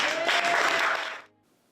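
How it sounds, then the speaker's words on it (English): Audience applause during a local news broadcast, a dense burst of clapping that holds steady for about a second before fading out quickly into near silence. "So round of applause, my man."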